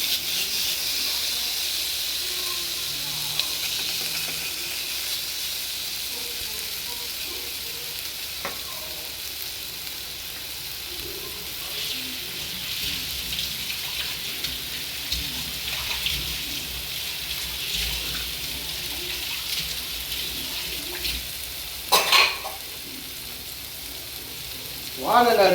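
Marinated Kerala-style fish sizzles and hisses steadily in oil in a pan, a continuous close frying crackle with occasional louder pops and spatters and faint voices underneath.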